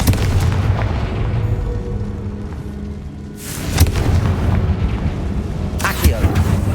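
Confringo blasting spells exploding in the video game Hogwarts Legacy, with loud booms around the middle of the clip and again near the end over a rumbling game background.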